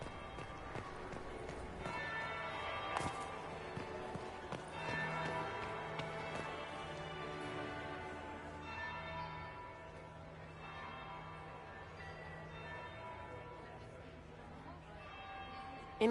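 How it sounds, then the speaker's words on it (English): A bell rings in Dragon Age Inquisition, its tolls mixed into a busy game soundscape of music, footsteps and voices talking, with a steady ringing undertone throughout. "That would be the second bell."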